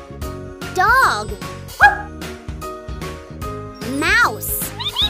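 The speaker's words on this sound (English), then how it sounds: "Dog." Cartoon dog barking in a children's animal puzzle game for Android, a series of short yipping barks and a whine over bouncy game music with light jingles, close and loud.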